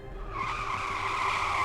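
A cartoon scooter skids in one sustained, rising tire squeal, loud and close, with no voices over it.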